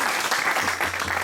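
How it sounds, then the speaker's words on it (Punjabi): Congregation clapping at a Christmas Eve church meeting, a short burst of many hands applauding together, fairly close and dense, with a faint voice underneath. "ਇੱਕ ਵਾਰ ਤਾੜੀ ਮਾਰੋ ਜੇ ਖਿੱਚਣੇ ਆ।"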